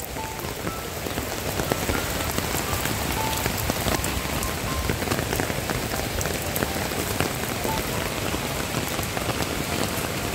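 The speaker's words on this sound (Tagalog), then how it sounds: "Ang lakas talaga ng ulan." Heavy rain pours down continuously, a dense, loud hiss of drops hitting surfaces with no break and no voices.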